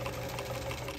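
A sewing machine hums in one steady, close, moderately quiet run of stitching as the sides of a vintage travel bag are sewn.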